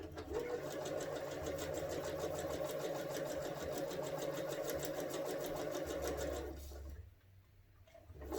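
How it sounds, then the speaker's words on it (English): A sewing machine joining fabric strips, a steady rapid whirring and ticking run close by for about seven seconds before stopping, then briefly starting again. "take it to your sewing machine and sew this together"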